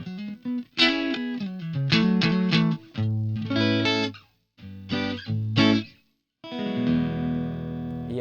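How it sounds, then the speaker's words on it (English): Clean electric guitar through a Donner Arena 2000 modeling FT Twin amp paired with a 4x10 cab model, playing chords and single-note runs in phrases with short pauses, close and full without talk. "We've got a clean sounding amp, an FT Twin, and we're going to pair that with the FT Basement, a 4x10 cab."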